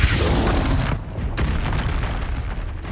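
A Bombarda blasting spell from Hogwarts Legacy goes off as a loud, near boom, followed by rumbling debris and a second sharp burst, all dense and continuous over the three seconds.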